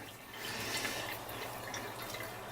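Water runs steadily into a filter through a 3/4 inch NPT hose connector, a soft continuous trickling and splashing close by, with no talking.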